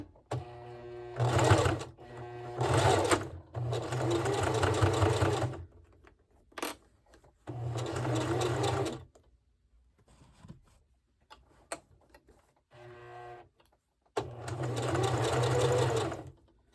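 Sewing machine stitching a zipper into fabric, running in several loud bursts of rapid, steady stitching separated by short pauses, with a few faint clicks in between.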